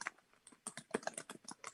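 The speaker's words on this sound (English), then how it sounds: "I'm just typing in the chat." Typing on a computer keyboard: a quick, close burst of light key clicks in an irregular rhythm, fairly quiet and heard alone without talk.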